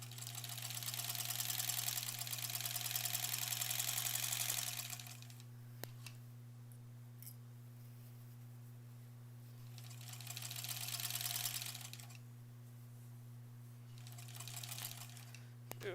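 Sewing machine stitching the sashing seams of a granny squares quilt, running in two sustained bursts with a pause between, over a steady low hum and a brief restart near the end.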